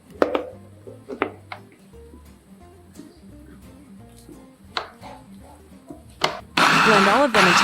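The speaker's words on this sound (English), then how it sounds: "Blend all of them until mixed well." Blender whirring through a mix of beef, deboned mackerel, rice, calcium and broth for homemade cat food, starting after scattered clatter and knocks and running loud and steady at the end.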